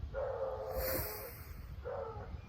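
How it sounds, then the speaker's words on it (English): A dog barks indoors, a long drawn-out yelp followed after a pause by a shorter bark, faint and somewhat distant. "Oh, shut up, dog."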